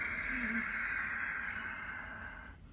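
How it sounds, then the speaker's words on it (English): Deep throat-gripping hypnotic breath during Pilates, yoga or qigong practice, a long, soft, hissing exhale close to the mic that resembles Darth Vader breathing and slowly fades. "A soft, sweet, sighing, silky sound from the back of the throat, nearly sort of Darth Vader breath in a way"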